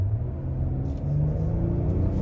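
A 2023 Hyundai Palisade Limited SUV under throttle, its engine giving a steady, fairly loud low rumble from inside the cabin that holds on without voices.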